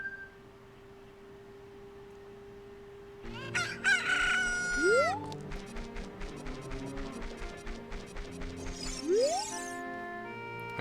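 Cucco rooster in the Ocarina of Time HD video game crowing twice, each a loud rising cock-a-doodle-doo, over a steady game music loop and rhythmic background tones.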